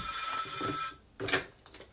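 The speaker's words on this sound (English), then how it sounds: "This phone's driving me crazy for now." A telephone bell rings loudly for about a second, then breaks off into a short quieter burst, heard alone in an indoor setting during a live talk.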